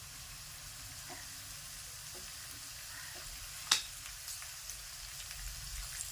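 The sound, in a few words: prawns frying in a pan while being turned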